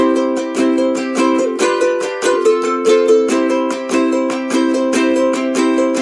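A bright strummed chord pattern introducing a song plays alone, with regular down-and-up strokes and occasional chord changes, keeping an even, lively rhythm throughout.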